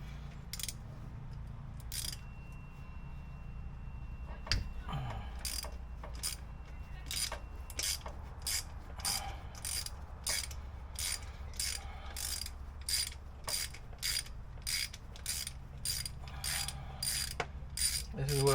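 A ratchet wrench with an extension loosens a sensor on an LS engine, its pawl clicking in a long run of rapid, rhythmic bursts up close against a low background hum.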